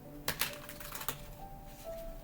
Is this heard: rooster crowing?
no